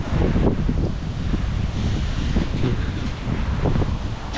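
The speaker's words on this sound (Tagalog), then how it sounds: "Grabe ang hangin guys." Strong storm wind buffeting the microphone outdoors in San Diego, a continuous loud rumbling roar with gusty surges and rustling, close and with no talking.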